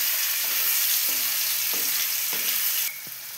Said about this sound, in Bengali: এবার একটু করে এপিট ওপিট করে নেবো, একটু হালকা ভাজবো, খুব বেশি ভাজবো না।